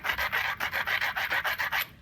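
Carbide abrader rubbing the edge of a Pedernales flint point, about a dozen quick rhythmic back-and-forth scraping strokes, close and even, no talk.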